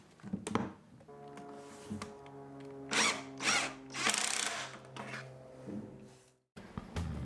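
A power drill drives pocket screws into wood, with several loud whirring bursts of the motor rising and stopping close up, broken by short pauses and quiet handling noise.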